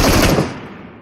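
Rapid automatic gunfire in the PUBG battle royale shooter, a loud burst of close shots lasting a fraction of a second that then fades out.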